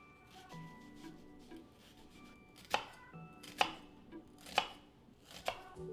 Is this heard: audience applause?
no